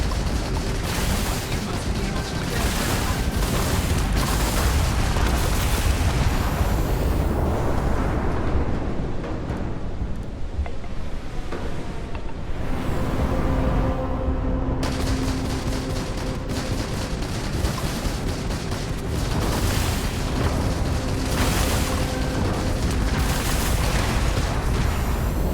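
Gunfire and explosions in the space video game Starfield, a continuous barrage of booming blasts and rapid shots that rumbles loudly throughout, with a brief lull in the middle before the fighting swells again.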